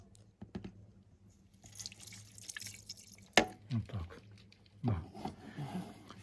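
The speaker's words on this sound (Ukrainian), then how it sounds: "Додаємо е, льодяної води." Ice water is poured into a homemade ham mixture, giving faint, scattered drips and splashes with a few sharper clatters, quiet and close, with no talk over it.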